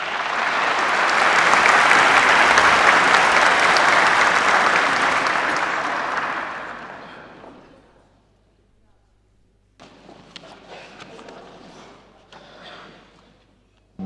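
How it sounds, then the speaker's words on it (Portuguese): Applause from a conference audience at an opening session in Lisbon rises to a loud, sustained wash of clapping, then fades out over a couple of seconds, followed by quiet room noise and soft shuffling. "Uma salva de palmas"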